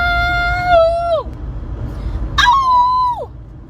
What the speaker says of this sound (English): I want to hear a howl.